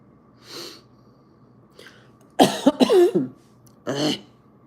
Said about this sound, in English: All of a sudden, I'm coughing.